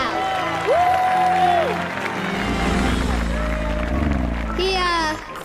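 A cartoon crowd cheers and claps wildly for a towering Brachiosaurus, a loud sustained roar of applause with voices and whoops rising over it before cutting off.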